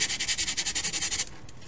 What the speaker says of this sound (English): we'll go ahead and do that nice little round over on the top using the sandpaper